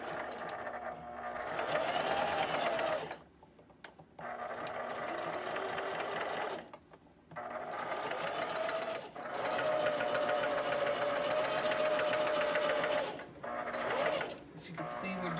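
A sewing machine stitches a seam on a tube dress, running in several long steady whirring bursts with brief pauses between them, close and clear, with a person speaking softly over it.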